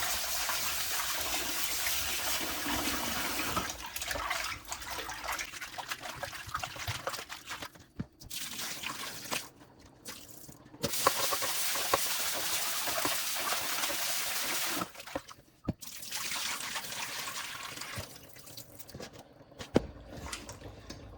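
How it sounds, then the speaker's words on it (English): Oxtail pieces are washed under a running kitchen tap: a steady gush of water splashes over meat, broken by brief pauses and handling clunks, fairly close with no speech. "I am through trimming the fat off the oxtail, and so now I'm just going to wash it."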